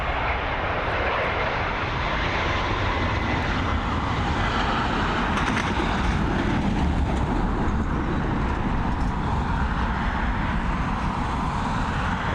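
A jet airliner takes off and climbs away from Dublin Airport, its engines roaring steadily and loudly throughout with a broad rumbling wash and no speech.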